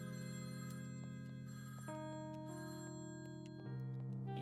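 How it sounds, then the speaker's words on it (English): A telephone rings in the Feline Forensics video game: a steady electronic ringing tone that pulses on and shifts pitch twice, moderately quiet and alone with no voices. "Oh, why is the phone ringing?"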